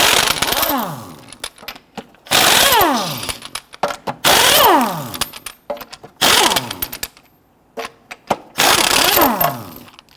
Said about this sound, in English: you can loosen and remove your lug nuts.